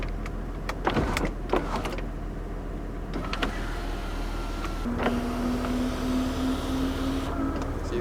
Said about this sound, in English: That's a cool feature right there, the power sunroof back in the days.